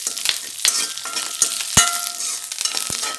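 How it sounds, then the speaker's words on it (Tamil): Curry leaves crackling and popping as they roast crisp in a hot pan while sesame idli podi is prepared. The sizzle is steady and close, with sharp snaps scattered throughout and no talking. "கருவேப்பிலையை நல்லா மொறு மொறுன்னு ஆறு அளவுக்கு வறுத்து எடுத்துக்கலாம்"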